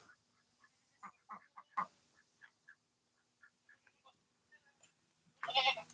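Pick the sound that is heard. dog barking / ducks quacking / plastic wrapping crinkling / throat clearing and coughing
ducks quacking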